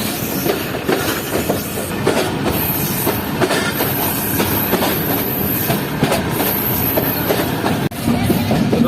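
Inside a coach of the Jand passenger train on a Pakistani line to Attock, a loud steady rumble with rhythmic wheel clatter and faint high squeals, the running noise continuous throughout.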